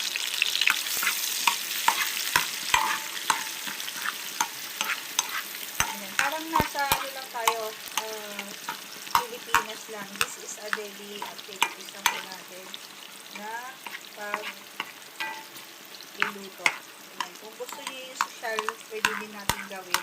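Onion sautéing in a pan for a mung bean and spinach dish, a steady close sizzle with frequent scraping stirs and light clinks throughout, no talking.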